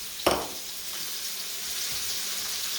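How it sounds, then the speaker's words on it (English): Chopped onion sizzling in a pot over a gas flame for potato soup: a sharp burst as it hits the hot fat, then a steady soft hiss that carries on evenly. "And you want to cook the onions"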